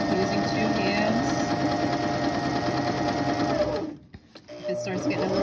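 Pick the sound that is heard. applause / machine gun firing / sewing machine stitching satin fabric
sewing machine stitching satin fabric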